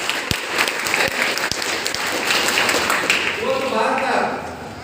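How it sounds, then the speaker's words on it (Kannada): Audience at a business group gathering in Karnataka giving loud sustained applause, a dense continuous roar of many hands clapping, with a voice speaking faintly over it toward the end. "ಮೊಹಮ್ಮದ್ ಶೇರ್ ಸರ್ಗೆ ಜೋರಾದ ಚಪ್ಪಾಳೆ ಕೊಟ್ಟಿದೆ"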